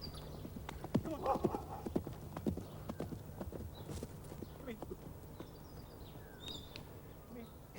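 Hooves of a horse clip-clop at a slow, uneven pace on hard ground in the Australian countryside, with occasional birds and insects in an open outdoor setting.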